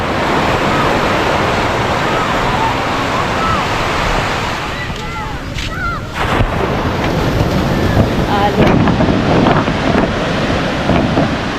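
Ocean waves breaking at Sabang Beach in Baler, a loud continuous wash of surf with heavy wind buffeting the microphone and voices calling out faintly now and then.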